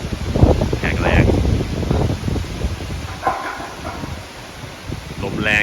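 Strong wind buffets the microphone at an outdoor solar panel installation site, a steady loud rushing roar with gusts throughout, alongside brief dog-like yelps.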